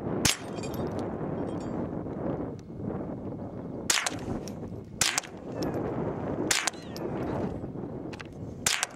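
Several sharp gunshots crack out in irregular succession outdoors, loud and close, separated by stretches of rustling background noise.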